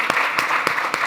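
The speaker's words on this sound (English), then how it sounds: "You guys can applaud for that too." An audience at a foundation leadership event applauds, a brief, steady burst of many hands with a few sharper claps standing out at a regular pulse.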